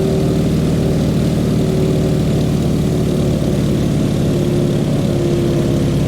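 A Stearman biplane's radial engine and propeller hold cruise power at about 1900 RPM, making a loud, steady, throbbing drone that fills the whole stretch without any voices.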